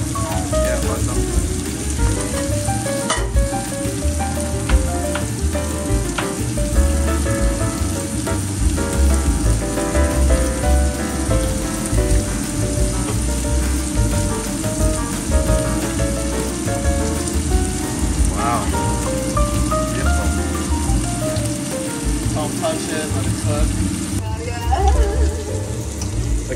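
King bolete mushrooms fry in a pan with a steady, dense crackling sizzle like heavy rain that runs throughout, while voices murmur faintly underneath.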